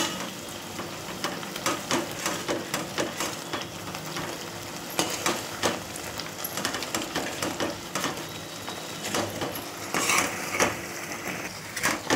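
A spoon scrapes and clatters rhythmically against a frying pan as thick masala for chicken gravy is stirred, with a faint sizzle underneath and no talking.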